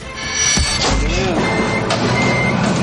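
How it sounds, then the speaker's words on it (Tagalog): Large trucks moving back and forth on Banawe Street in Quezon City give out a steady, loud reversing beep over rumbling engine and street noise, with a faint voice in the background. "Nagpabalik-balik sa Banawe Street sa Quezon City ang malalaking truck"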